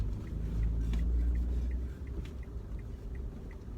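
A Mitsubishi L200 pickup truck reverses slowly, its engine giving a steady low rumble that swells and then settles, close by with no talk over it.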